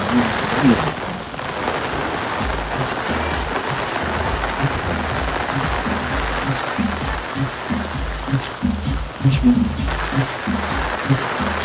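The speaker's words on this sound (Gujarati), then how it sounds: "તો મિત્રો વરસાદ ફૂલ ચાલુ હે." Heavy rain pours steadily throughout on a town street lined with shops in Thasra, Gujarat, a dense continuous hiss with occasional louder splashes, while voices talk faintly underneath.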